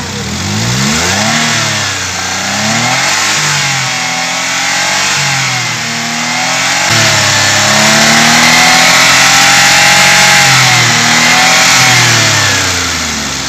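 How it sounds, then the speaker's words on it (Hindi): A Maruti Alto LXI with a coolant leak runs with its radiator fan spinning, a loud, steady engine drone with slowly wavering pitch, heard close up and uninterrupted. "देखिए दूसरी बार फैन घूम गया है"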